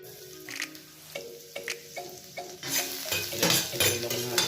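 Garlic frying in cooking oil in a pan for chicken sotanghon soup, with scattered stirring clinks and scrapes of a utensil, then a louder, denser sizzle that builds in the final seconds.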